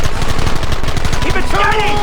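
Rapid machine-gun fire in the video game Red Dead Redemption, dense loud bursts of shots with game sounds underneath and a voice speaking faintly behind.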